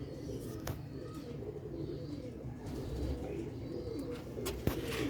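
Rare slate-grey Sialkoti pigeons cooing in low, steady murmurs amid a busy background hum, with an occasional sharp click or flutter near the end.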